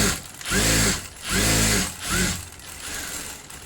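A sewing machine stitches the neck part of a blouse in three or four rhythmic whirring runs separated by short pauses, close and steady with a mechanical chatter.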